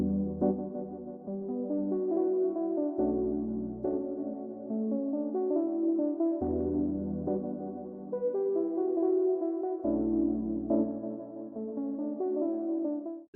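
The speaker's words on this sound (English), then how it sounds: "So first thing I started with is these keys, and I used the James World preset." A mellow keys chord progression played on the Native Instruments Duets James World preset, four slow repeating chord phrases with deep bass notes, soft and steady, no talking.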